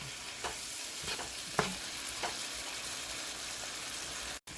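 Italian sausage, peppers and onions slow-fry in a pan with a steady close sizzle, broken by a few soft stirring scrapes and one brief drop near the end.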